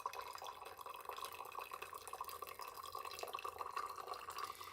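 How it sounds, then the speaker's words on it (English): Water at 98 °C flowing through a Verve Dwell pourover coffee dripper, a faint, steady trickle and patter of liquid draining continuously without pause. "You know, the water flows through pretty fast here."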